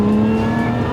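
A supercharged 3.5 litre quad-cam Toyota V6 in a Lotus Emira revs loudly and close, giving a steady, strongly tonal engine drone with a whining overtone.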